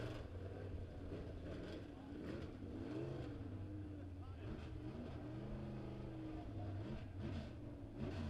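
USRA B-Modified dirt track race cars roll out at Springfield Raceway, engines idling and revving with rising and falling pitch, a steady rumble under faint crowd or announcer noise.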